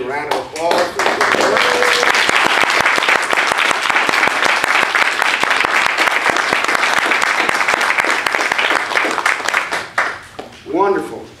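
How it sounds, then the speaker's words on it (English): A church congregation bursts into a long round of applause, many hands clapping loudly and evenly for about ten seconds before it thins out, with brief speech at the start and again as the clapping fades. "I think we need to give you a round of applause."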